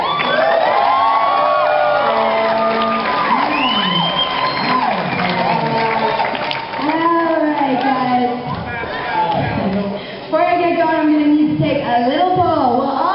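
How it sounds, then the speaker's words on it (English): A comedy-show audience at Anime Expo 2010 cheers loudly, with whoops, high shouts and excited voices overlapping across the whole stretch and only a little clapping underneath. "I want you guys to please give a big round of fucking applause to Bridget!"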